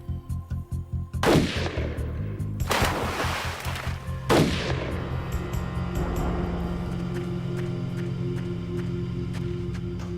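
Three loud rifle shots in a reenactment of a roadside shooting, each sharp crack ringing out over the rumble and rhythmic throb of an idling engine, with no talk.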